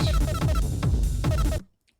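A short Ableton Wavetable synth arpeggio of quick repeating notes with pulsing low bass hits, played in about four bursts, then cutting off abruptly into silence.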